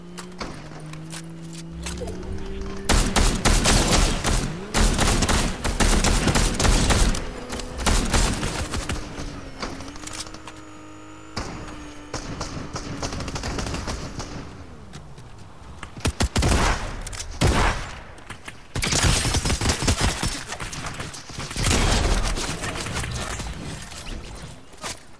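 Rapid bursts of gunfire in the PS4 battle royale game Fortnite, dense volleys crackling loudly through most of the stretch, broken by short lulls and ending in further heavy barrages.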